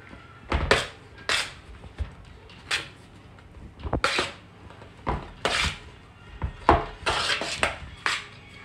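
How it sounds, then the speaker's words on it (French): A tablespoon stirs food in a pot while a Tunisian fish couscous is being cooked, giving a series of sharp metallic clinks and scrapes at irregular intervals, close and fairly loud with quiet gaps between them. "Je mélange avec une cuillère à soupe, je préfère."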